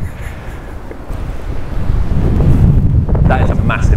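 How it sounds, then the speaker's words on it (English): Strong wind buffets the microphone on an open golf course during a foursomes round, a steady low roar that swells louder in the second half while people talk faintly in the background. "That is a massive wind."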